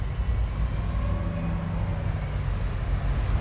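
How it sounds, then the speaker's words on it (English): A passing bus gives a steady, loud low rumble of city traffic noise that holds evenly throughout, with no voices. "the noise of a passing bus"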